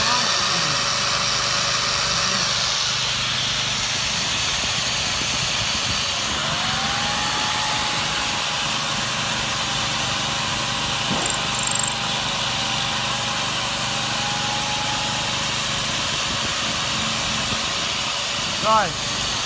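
An old Japanese Elemax SH1000 mini generator, rated 850 VA, runs with a drill plugged in as added load, giving a steady, loud engine drone with a faint rising whine from the drill, while people talk over it.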